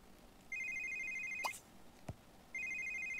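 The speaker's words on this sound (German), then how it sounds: "Und das Handy geht wieder." A mobile phone rings in The Sims 3 video game: a bright electronic ringtone warbles for about a second, breaks off under a couple of short game sounds, then starts again, clear and close.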